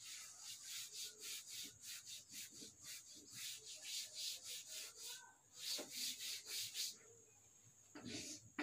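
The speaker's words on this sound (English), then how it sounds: "So I'm going to rub this so that we can write here clearly." Rhythmic rubbing strokes of a duster erasing writing on a board during a physics class, a quiet repeated back-and-forth scrubbing with short pauses.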